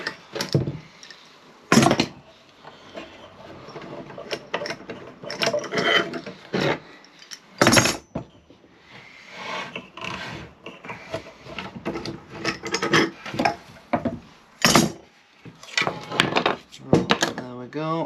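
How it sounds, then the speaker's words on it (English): Clamps come off a freshly glued neck on an SG guitar kit, with a close run of woody clicks, knocks, rubs and scraping squeaks at irregular intervals. "I'm just going to take off the clamps"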